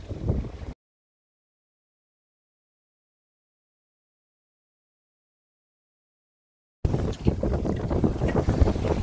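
A sailboat under full mainsail and genoa drifts in light wind at night. A brief rush of wind and water noise is followed by a long silent gap, then a steady, fairly close rushing resumes alone.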